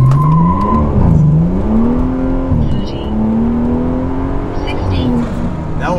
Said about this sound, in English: I might have to shift manually, because this car is like not shifting what it should be. Like it's coasting, like redlining before it shifts.